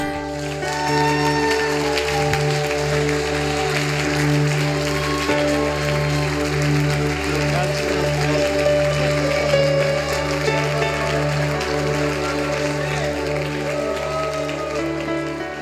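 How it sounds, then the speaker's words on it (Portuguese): Congregation applauding in a church, a soft, sustained patter of clapping under a steady sustained organ or keyboard chord, moderately distant. "Aplauda o Senhor."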